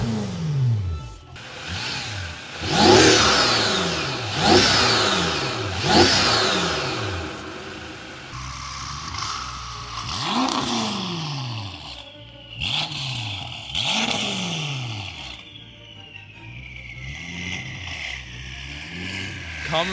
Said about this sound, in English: you can hear the turbo so much